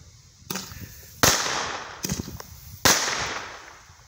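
A Billy Club roman candle firework fires outdoors with two sharp, loud firecracker-like pops and two fainter bursts, each followed by a hissing, crackling tail, with long gaps between the shots.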